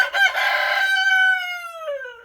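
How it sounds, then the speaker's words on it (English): A pet rooster crows once, close and loud, in a single drawn-out cock-a-doodle-doo that falls in pitch at the end, with no other sounds around it. "If you want to know what it's like to have a pet rooster, this is amazing."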